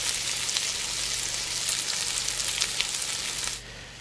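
Tomato paste sizzling in a hot paella pan for paella mixta: a steady, bright frying hiss with small crackles that drops away sharply near the end.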